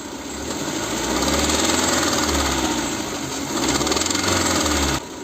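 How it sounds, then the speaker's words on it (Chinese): Wuling car engine revving to about 2,000–3,000 rpm with a ticking fault, a loud steady mechanical drone with rapid rattling taps that eases briefly and swells again before dropping near the end. "我们可以听到我们加油门2-3千转左右，里面就有哒哒的异响。"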